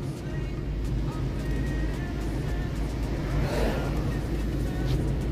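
A car climbs a winding mountain road in the Serra da Mantiqueira in third gear. Its engine drones steadily and loudly, with road rumble inside the car.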